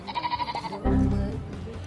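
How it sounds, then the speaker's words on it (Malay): Goats in Dubai bleat in a run of short, wavering cries close by, then a louder burst of bleating overlaps with people talking and general outdoor bustle. "Kambing-kambing kat sini pelik-pelik"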